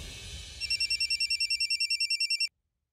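A telephone rings for an incoming call, a steady rapid electronic trill repeating about a dozen times over low background murmur, then cutting off abruptly into silence.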